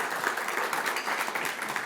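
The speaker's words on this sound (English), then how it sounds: "Rocky, let's give him a round of applause." Chamber of commerce meeting attendees applaud a county commissioner with a short, steady burst of dense clapping from a roomful of people.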